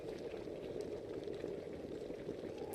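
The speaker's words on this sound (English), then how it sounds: "The pot is boiling violently." A heavy iron pot boiling violently in the video game Shut In, a steady low bubbling roll that holds even and fairly quiet throughout, with no talk.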